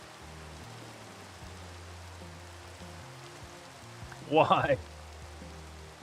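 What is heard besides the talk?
rain falling in Minecraft video game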